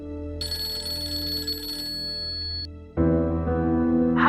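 A phone ringtone chimes in a repeating electronic pattern, then shifts to a lower, fuller tone partway through; no one speaks.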